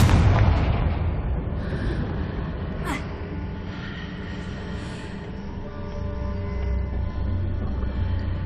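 A Confringo blasting spell bursts in Hogwarts Legacy, a loud rumbling explosion right at the start that decays into a low sustained roar, with a brief sharp whoosh partway through.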